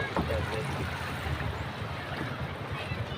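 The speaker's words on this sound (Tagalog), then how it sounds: "Tayo nakasakay sa bangka." A boat travels up the river toward Daraitan with a low steady engine rumble and rushing water close around it, while a voice speaks over the noise.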